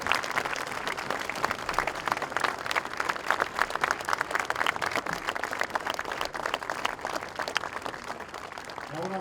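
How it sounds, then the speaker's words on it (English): Audience applause at an 11th Armored Cavalry Regiment change of command ceremony, a sustained dense patter of many hands clapping for about nine seconds at moderate distance, steady without voices. "Please join me in a round of applause."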